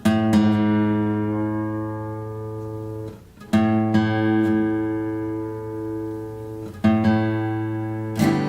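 Guitar strings plucked for tuning against A: three long ringing notes, each struck and left to sustain and decay, close and alone.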